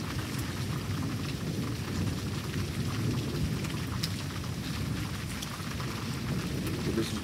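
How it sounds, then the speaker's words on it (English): A night thunderstorm brings heavy rain pouring down without a break, with deep rolling thunder rumbling underneath and a few sharp crackles. The sound is dense and steady throughout. "But this was before the storm started getting like this."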